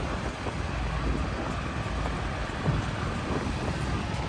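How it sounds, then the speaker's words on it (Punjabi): Tractors race at the Hola Mohalla festival in Anandpur Sahib, making a continuous low engine rumble mixed with broad crowd and road noise, steady and moderately distant, with no talk. "ਦੇਖੋ ਰੇਸਾਂ ਲਾਉਂਦੇ ਟਰੈਕਟਰਾਂ ਦੀਆਂ"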